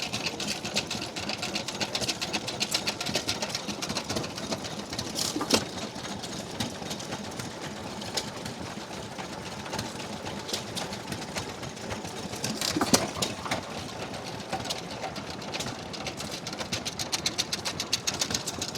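A restored 4 horsepower Grey hit-and-miss engine made in Detroit, running at a vintage engine rally, gives a steady mechanical chugging and clatter, close and continuous with a couple of louder bangs, and no voices over it.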